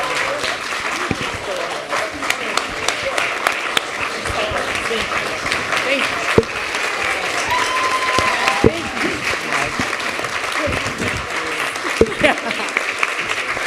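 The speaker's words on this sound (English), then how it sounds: "it's hard to get applause because that's not what I'm used to" Audience applause follows an award announcement at an International Women's Day panel, a steady moderate clapping from a seated crowd lasting throughout, with a few sharper individual claps standing out.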